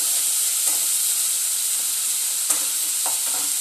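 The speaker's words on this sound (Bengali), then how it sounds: "আমি মশলার মধ্যে পেঁয়াজটাকে ভেজে নিলাম" Onion paste fries in oil with spices, making a steady bright sizzle with a few faint stirring scrapes. Close and continuous, with no voices.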